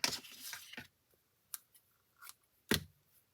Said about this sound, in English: I'm going to take this garden green ribbon, and I am just going to cut off a piece about that long